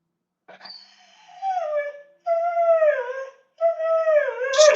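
A dog gives three drawn-out, wavering howls close up, each sliding down in pitch and tailing into whimpers, with short pauses between them.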